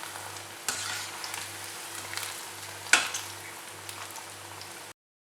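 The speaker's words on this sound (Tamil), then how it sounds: "நல்லா ஃப்ரை ஆகணும்." Egg 65 pieces frying in hot oil, a continuous crackling sizzle with a few sharper pops, one loud snap near the middle, a faint periodic low hum underneath, and the sound cutting off abruptly.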